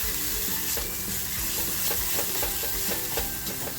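Masala frying for Bombay duck chutney, a dense, steady sizzle with quick repeated stirring scrapes, close and fairly loud, no voices.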